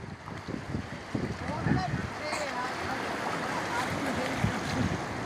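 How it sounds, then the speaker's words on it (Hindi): Sea waves wash ashore at Baga Beach in Goa, a broad steady surf roar with wind, heard throughout under faint voices and beach activity. "समुद्र, ये है हमारा वो बागा बीच, इस पर नहाने आए हैं ये।"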